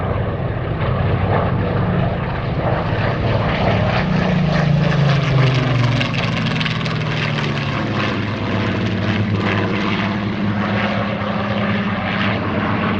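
A propeller-driven plane flying at the Sywell Airshow, its steady engine drone loud and continuous throughout, with a rising and falling pitch as it passes.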